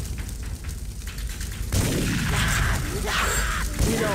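Gunfire in the Xbox multiplayer shooter TimeSplitters Future Perfect, quieter game noise at first, then a sudden loud burst of rapid shots and blasts that keeps going to the end.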